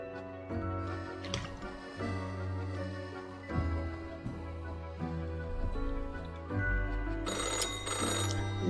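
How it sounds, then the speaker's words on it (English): An old telephone bell rings with a harsh metallic clatter in repeated bursts, steady and prominent over a background music bed. "the phone rings in an ear-piercing metallic clatter"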